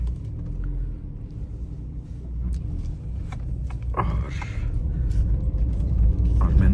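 A car drives off on a road near Shimla with a low engine rumble that builds gradually. Passing traffic whooshes briefly about midway, and the motor grows louder toward the end.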